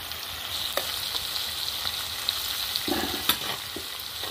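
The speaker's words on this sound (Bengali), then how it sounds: "এবার আমি এর মধ্যে দিয়ে দেবো কুচনো টমেটোটা, আর তার মধ্যে দিয়ে দেবো আমি আদা জিরে রসুন কাঁচা লঙ্কা বেটে রেখেছি সেই মশলাটা।" Chopped tomato with a ground paste of ginger, cumin, garlic and green chilli frying in a pan, giving a steady close sizzle with a few sharp spits and stirring scrapes, and no voices.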